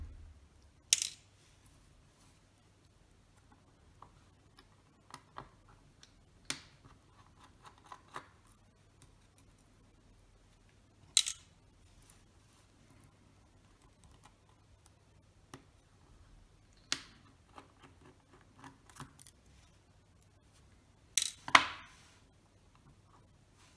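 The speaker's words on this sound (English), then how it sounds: "I can reach it by unscrewing three screws." Small screws come out of the Synchro-Compur shutter of a Contaflex IV camera during cleaning: sparse, faint metallic clicks and taps spread across a quiet workbench, with a few sharper ticks standing out and no talking.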